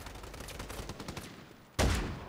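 Gunfire in the shooter game Strinova, a run of rapid shots at moderate level ending in one sudden loud, close burst, with no talk.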